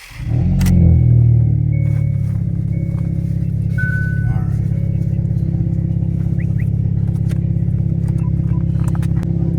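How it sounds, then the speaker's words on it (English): A car with a freshly reassembled turbo and newly bled clutch drives along, its engine holding a loud, steady drone close by with faint clatter and no talking. "We're going to go on the first drive with it all together in the clutch bled."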